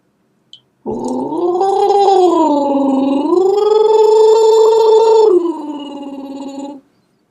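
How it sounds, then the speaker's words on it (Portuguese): A person gargles a little water to clear a tickly throat, a loud sustained bubbling, voiced gurgle lasting several seconds with a shift in pitch partway through. "quando tá com pigarro, é bom pôr um pouquinho de água e fazer gargarejo"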